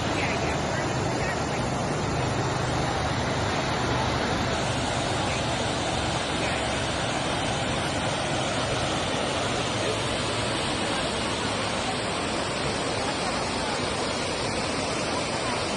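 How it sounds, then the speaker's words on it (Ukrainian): Waterfall roaring continuously, a broad, steady rush of falling water that stays loud and unchanging throughout. "Ось так виглядає один із водоспадів."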